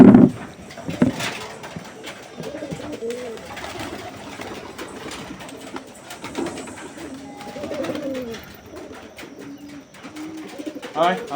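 Madras pigeons cooing in a low, repeated burbling rhythm through the morning, close by and moderately loud, with other birds chirping faintly around them and a sharp clack near the start.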